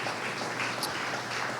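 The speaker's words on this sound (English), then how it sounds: "you can clap for that" Audience at a Tulsa panel on reparations applauds for a 111-year-old survivor, steady dense clapping from a crowd throughout, moderately loud with no talking.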